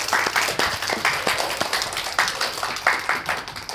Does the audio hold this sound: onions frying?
no